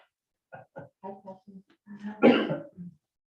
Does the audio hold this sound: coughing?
yes